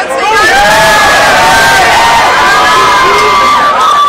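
A loud crowd at a hip-hop concert cheering and whooping, with shouts and yells rising over a constant roar.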